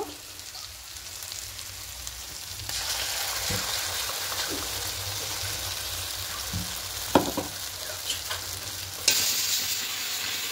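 Paste of green chili, poppy seed, mustard and peanut stir-fried in a pan for a Bengali katla fish dish, with a steady sizzle that grows louder partway through and a few sharp scrapes and clinks of a spatula near the end.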